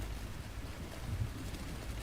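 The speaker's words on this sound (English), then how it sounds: "Loud and windy." Wind roars outside during a tornado outbreak, a dense, steady, low rumbling rush with buffeting against the microphone, continuous and fairly loud throughout with no talking.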